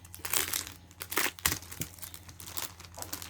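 A scrapbooking paper set crinkles and rustles as it is handled up close, with bursts of crumpling and sliding sheets throughout.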